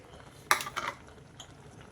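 Chopped onions, tomatoes and green chillies go into a pot of half-cooked moong dal, making one short burst of utensil and pot clatter. A fainter clink follows, then near silence.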